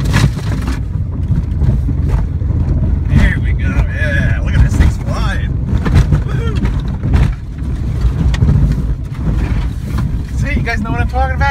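A 1998 Dodge Neon engine rumbles steadily while driving, with wind buffeting the microphone and people talking over the noise throughout.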